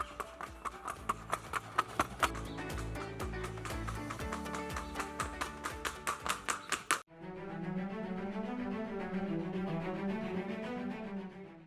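A lively, docile show horse at a national breed competition trots with a regular clip-clop of hooves for several seconds, loud and close, before the sound gives way to a steady musical wash.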